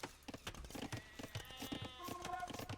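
Sheep bleating in the Age of Empires 2 video game, a few short bleats mixed with clicks and game sounds, moderately quiet.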